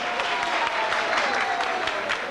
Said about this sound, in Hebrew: בלי מוזיקה אפשר לשמוע מחיאות כפיים?